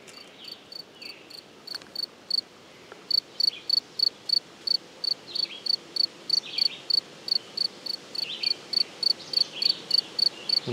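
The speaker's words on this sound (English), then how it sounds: "I'm about 10 feet away from a cricket here, and I am going to sweep it here and find it." A cricket close to a parabolic microphone chirps in a steady, evenly spaced series of loud pulses, clear above the low outdoor background hiss, after a few scattered faint chirps at the start.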